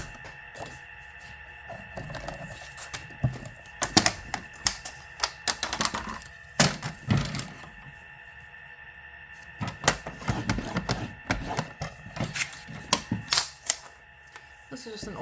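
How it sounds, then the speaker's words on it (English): An older paper trimmer fitted with a score blade runs along card stock in a series of sharp clicking, scraping strokes, close and fairly quiet, with some pauses between passes. "I replaced the trim blade with a score blade, makes it a little bit faster."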